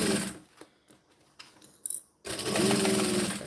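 A sewing machine stitches a pouch seam, running in short whirring bursts with pauses and handling clicks between, then a steady sustained run of stitching.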